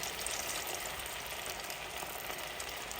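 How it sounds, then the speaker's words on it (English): Chips frying in very hot oil, a steady close hiss and crackle of bubbling fat that stays even and unbroken throughout, with no voices. "I'm gonna continue to fry up our chips"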